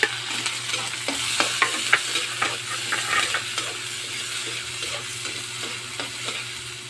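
Garlic, onion and tomato sautéing in a pan for a sardine dish, heard as a steady close sizzle broken by repeated scrapes and clacks of a spoon stirring.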